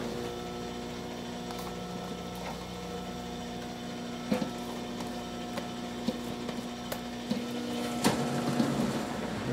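A stand mixer creams almond petit four batter with a steady, even motor whir, joined by faint scattered clicks and taps from the bowl. No one speaks.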